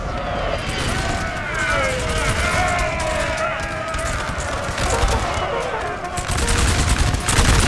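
Artillery and musket fire in a Napoleon: Total War multiplayer battle, dense continuous crackling volleys and booms with a constant battlefield roar, a commentator talking over the gunfire.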